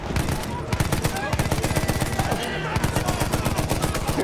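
A mounted machine gun in the video game Battlefield 1 hammers out rapid sustained bursts, dense and loud, with a brief pause before firing resumes.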